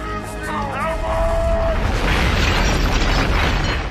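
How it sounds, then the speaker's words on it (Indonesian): A bank blows outward in a big film explosion, a loud, sustained roaring blast that swells and rumbles. A thin whistling tone and a brief burst of sound come just before it, and then the explosion keeps booming to the end. "Tak lama kemudian bank tersebut meledak ke arah depan."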